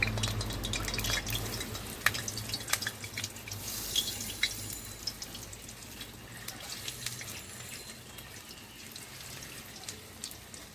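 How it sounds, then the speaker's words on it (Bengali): Masoor dal bora, lentil fritters mixed with ginger and spices, fry in hot oil, giving a soft, steady sizzle with scattered crackles and pops, fairly faint and close, with no talking. "গরম হয়ে গেছে, বড়াগুলো ছেড়ে দেব।"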